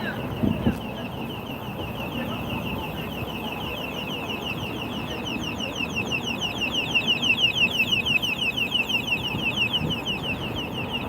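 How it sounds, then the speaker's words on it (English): A bike alarm sounds as a rapid, repeating electronic chirp that pulses on and on, moderately close, over a broad, steady outdoor background of traffic and ambient noise. "I wonder if that kid knows his bike alarm's going off."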